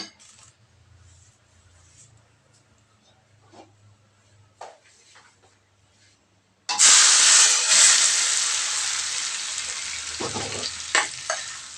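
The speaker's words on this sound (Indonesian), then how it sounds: "Oke, minyaknya sudah panas nih. Tinggal kita tuangkan." Hot oil poured over dabu-dabu sambal for Indonesian fried fish. After a quiet stretch, a sudden loud sizzling hiss erupts and continues close by, gradually settling, with no talking.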